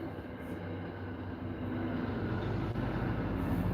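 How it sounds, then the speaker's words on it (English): Train travelling toward Portland, Maine, a continuous broad rumble and rushing noise heard from inside, steady and fairly loud, growing slightly stronger over time. "Train."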